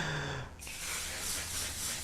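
A sustained, bright aerosol spray hisses steadily for over a second, close and fairly loud, following a brief quieter moment.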